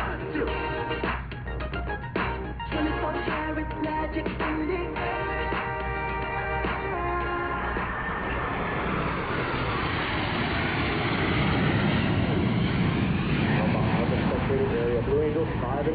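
Blue Angels jets pass at an air show, a deep roar that builds and swells into a broad rumbling rush over the second half, beneath an announcer's voice on the loudspeakers.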